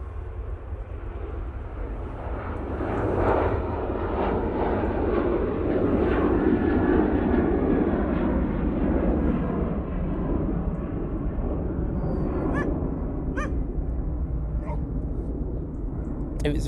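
An Emirates airliner at Manchester Airport gives off a broad, steady engine roar that swells and then holds, heard from a moderate distance with faint wind noise and a few brief clicks near the end.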